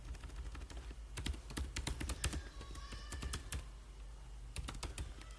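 Someone types an email address on a computer keyboard, steady close key clicks in quick runs with brief pauses and no voices.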